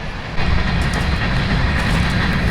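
Continuous rumbling roar of a passing train, with faint clickety-clack rhythm over steady broadband noise, close and fairly loud.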